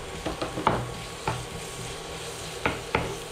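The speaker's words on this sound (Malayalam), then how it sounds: "നേരത്തെ ഇഞ്ചി വെളുത്തുള്ളി പച്ചമുളക് പേസ്റ്റ് അത് ഇട്ട് കൊടുക്കാം." Ginger, garlic and green chili paste frying in a pan for prawn masala, with a low steady sizzle broken by several sharp scraping stir strokes, close and moderately loud with no talking.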